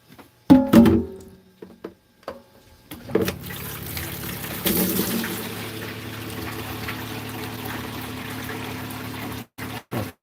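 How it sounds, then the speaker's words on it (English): Water poured from a bucket into a sailboat's bilge during a bilge pump repair: a few knocks and splashes, then a steady, close rushing pour lasting about six seconds before cutting off. "I think I'm going to put another bucket of water in there."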